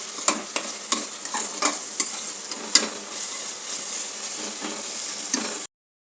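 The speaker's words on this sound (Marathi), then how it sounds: "आता आपल्याला याच्यामध्ये हिरवं वाटण घालून घ्यायचं आहे, जे आपण कोथिंबीर लसूण आलं वाटून घेतले. ते आता 2 मिनटं गॅसवर परतून घ्यायचं आहे." Ground coriander, garlic and ginger paste stir-fried in a pan, a steady close sizzle punctuated by repeated scraping stirs of the spoon, with no talking.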